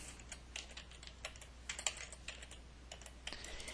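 Soft, rapid clicks of typing on a computer keyboard run in an uneven rhythm, close and quiet, with no voices.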